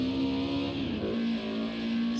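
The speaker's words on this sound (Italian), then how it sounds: "in onboard con il motore della sua M3" Onboard engine note of a historic BMW M3 lapping Oulton Park in Project Cars 2, a steady sustained drone with a slight pitch dip and recovery mid-way as the revs shift, continuous and close.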